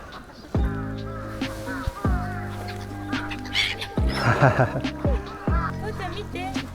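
Loud, close honking calls from birds near a castle in Japan, including a swan, repeat in short harsh bursts with overlapping cries, while people talk in the background.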